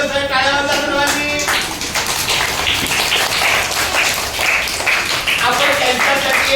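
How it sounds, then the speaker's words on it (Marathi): Children at a school birthday celebration for a teacher clap together in a dense, steady burst of applause lasting several seconds, with voices mixed in over it. "टाळ्या वाजवा सर्वांनी."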